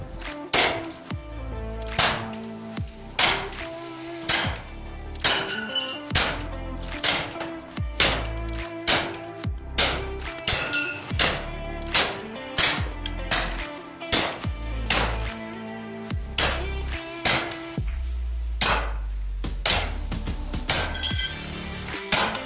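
A Smith & Wesson M&P9 air pistol fires at targets, with sharp shots about once a second, each ending in a bright metallic clink and spread in a steady series.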